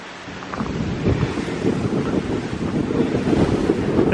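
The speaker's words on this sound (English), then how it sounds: "That wind is something else." Strong wind on an open ridge trail in a burned sagebrush area, a continuous loud roaring buffet battering the microphone, steady and close throughout with no talking.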